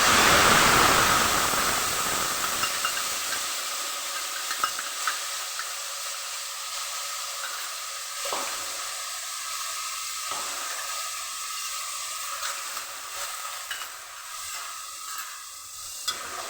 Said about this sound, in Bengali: এরপরে এটা আমি কষে নিচ্ছি মশলাটা, যাতে হলুদের বা কোনো কাঁচা মশলার গন্ধ না ছাড়ে